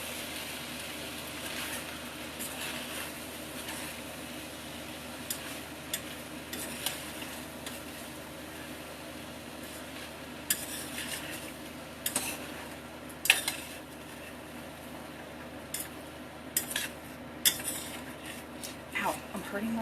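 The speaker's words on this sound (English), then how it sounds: "Then I'm going to stir this up." Papa's chili is stirred in a pan with a utensil. Faint scraping and clinking of metal against the pan keep going under a low sizzle, with sharper taps now and then and no talk.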